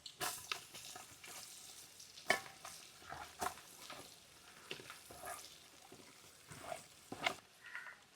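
Mustard seeds, fenugreek, ginger and garlic fry in hot oil for a Kerala-style sardine pickle, giving a soft steady sizzle broken by sharp pops and crackles and the scrape of stirring at irregular intervals.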